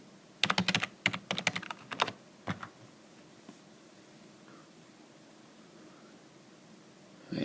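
Typing on a computer keyboard in a quiet room: a quick run of close, crisp key clicks for about two seconds, a couple of isolated taps, then near silence.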